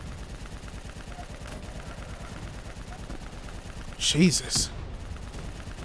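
Gunfire in the game Call of Duty Black Ops 3, a brief cluster of sharp shots amid constant battle rumble, with a man's exclamation during the firing.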